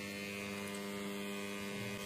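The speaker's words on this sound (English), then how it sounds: "let me use it to power this electric motor" A small electric motor runs on a test bench, powered through a bi-toroid transformer replication, giving a steady, even hum with a buzzing tonal edge that holds unchanged throughout, with no talking.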